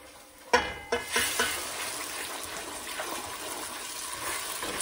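Blended pepper, tomato, onion, ginger, garlic and smoked dried shrimp frying for jollof rice, opening with a few loud stirring knocks and then settling into a dense, continuous sizzle and bubble close by.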